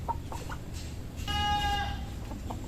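A chicken suffering from a cold with snoring, rattly breathing gives a few short clucks close by, then a longer nasal, wavering call, followed by a couple more soft clucks against a quiet background.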